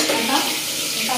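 Ginger and garlic sizzle in hot oil, a steady, close crackling hiss that holds evenly through a brief moment with no voices.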